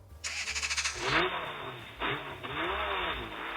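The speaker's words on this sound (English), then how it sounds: "So the default is a revving car." Synthetic revving car start-up effect played by a REDMAGIC 10 Pro gaming phone's coolant fan: a quick burst of rapid pulsed revs, then a loud rising engine roar that surges twice and settles, close and clear with no talking.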